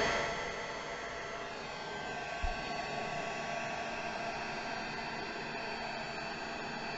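A steady, loud rush of blowing air from a heat gun used to smooth a wrinkle on a grocery bag, with a continuous motor whine and one brief thump partway through.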